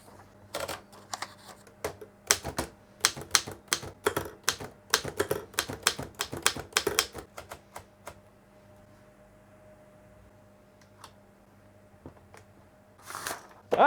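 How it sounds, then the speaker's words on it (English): An old, cleaned-up manual typewriter clacks through a burst of sharp, irregular keystrokes for about eight seconds, falls quiet, then gives a few isolated taps and a bright bell ding at the end, close and fairly loud. "do you remember that typewriter, the old typewriter that Nay bought"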